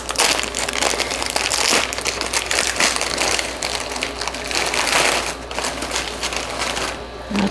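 Plastic sleeves of crackers are torn and opened close by, making a loud, continuous crinkling and crackling with irregular bursts of rustle across the whole stretch.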